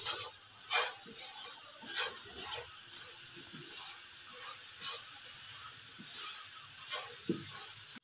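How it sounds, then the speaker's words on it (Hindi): Turmeric-seasoned mixture for lemon rice frying in a pan, a soft continuous sizzle and hiss with a few faint clinks of stirring, close and steady, no voices. "यहाँ पर हमने इसको 4 मिनट के लिए भून लिया अच्छे से"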